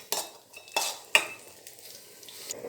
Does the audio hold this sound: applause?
no